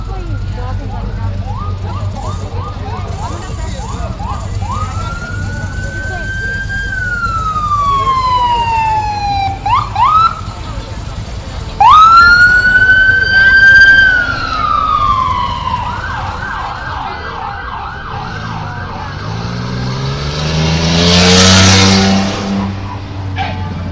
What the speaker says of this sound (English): That is an undercover police car just drove by.